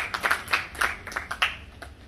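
An audience claps at an event in a sparse, uneven burst of individual handclaps, close and moderately loud, lasting about two seconds.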